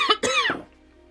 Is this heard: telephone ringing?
no